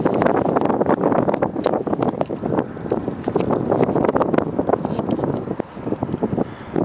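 Wind buffets a microphone beside a river in Oklahoma, a loud continuous rumbling roar with gusty fluctuations that fills the whole stretch, no speech heard.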